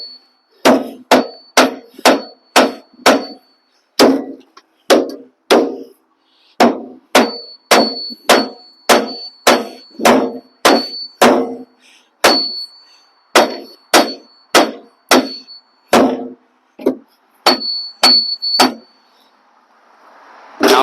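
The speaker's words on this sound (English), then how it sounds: "Now we will help get the outside gimbal off by hammering these out." Metal hammer blows striking the outer gimbal assembly of a junk Sea Ray Sundancer boat during scrapping, loud ringing clangs in quick bursts of several strikes separated by short pauses.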